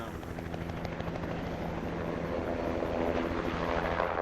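Helicopters spreading poison bait near the Makarora River pass overhead with a continuous loud rotor thrum and chopping drone that swells slightly toward the end.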